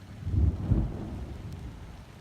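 Rain falling steadily outside, a dense hiss with a low rumbling swell in the first second, heard from indoors without talk.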